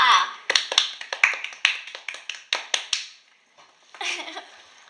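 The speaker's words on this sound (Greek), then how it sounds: "Χειροκρότημα για το Στέφανο που έκανε πλάκα." A small group claps for Stefanos in a bright, close run of uneven claps and taps, broken by a brief pause before a last short burst, with voices mixed in among the hands.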